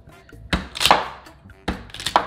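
A knife chops through the ends of a raw yuca (cassava) root on a cutting board in a home kitchen, two sharp, close thunks about a second apart with faint scraping after each.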